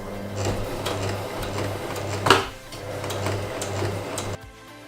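Sewing machine stitching fabric, a close steady mechanical whir with rhythmic needle ticks and a sharp knock midway, stopping abruptly near the end.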